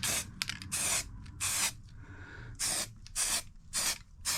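Short hissing bursts of a spray paint can coat the side panels of a Honda CB750 F1 motorcycle, about seven close, loud sprays of roughly half a second each separated by brief pauses.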